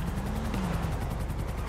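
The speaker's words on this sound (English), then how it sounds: "Hear the helicopter." A helicopter flies overhead outdoors, its steady rotor chop a constant low thrum that holds at an even level for the whole stretch, with no voices over it.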